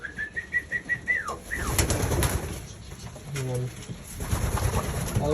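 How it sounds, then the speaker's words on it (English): Young racing pigeons flutter and shift inside a loft, with soft coos and wing flaps layered over a steady background hum, while someone talks nearby. "Nice young birds."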